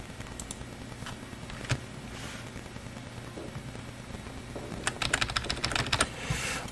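Sporadic keystrokes on a computer keyboard while a command is entered on a Raspberry Pi 4 setup, a few isolated taps followed by a quicker burst of typing near the end over a low steady hum.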